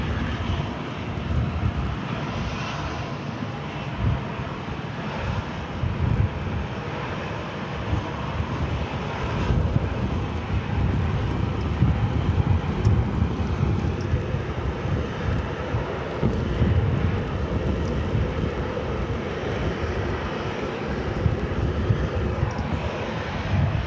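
A Southwest Boeing 737-700 airliner taxis in to gate D3 at Phoenix airport, its steady jet engine roar filling the air at moderate loudness and nearly unchanging throughout, with faint traffic noise underneath.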